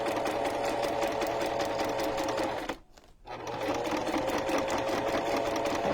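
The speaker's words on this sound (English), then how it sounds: "I'm just sewing right on that edge, like an eighth of an inch." A sewing machine stitches along the edge of a junk journal cover, its rapid mechanical whirring loud and close, briefly stopping for a moment midway before resuming at the same pace.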